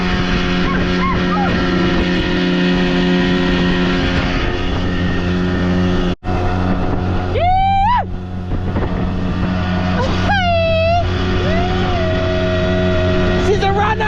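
An old boat engine on a $2,000 boat runs loud and close with a steady droning idle, its pitch rising and falling in two revving bursts, with a brief cutout midway.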